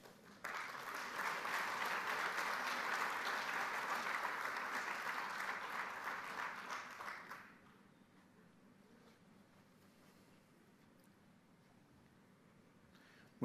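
An audience at an awards ceremony applauds an award recipient, a full, even burst of clapping lasting about seven seconds before fading into quiet room tone.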